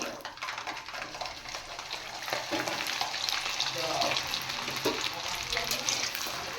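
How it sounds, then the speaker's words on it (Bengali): Large whole garlic cloves fry in hot oil, giving a continuous close sizzle with scattered bubbling crackles that grows slightly louder partway through, with no one talking. "এই রসুনগুলো আমি ভেজে তুলে নেব।"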